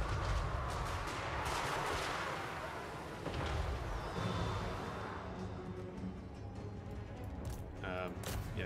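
Gunfire and artillery shooting in the strategy game Total War: Warhammer 3, a continuous dense barrage of shots and booming blasts rumbling throughout, with some talk in the mix.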